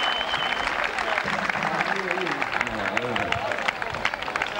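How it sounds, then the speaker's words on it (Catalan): Outdoor festival crowd applauding during a Moors and Christians siege and embassy pageant in Benissa, steady dense clapping throughout with voices and crowd hubbub mixed in. "un aplaudiment."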